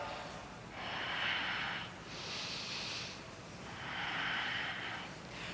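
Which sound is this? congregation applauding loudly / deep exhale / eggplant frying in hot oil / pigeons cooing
deep exhale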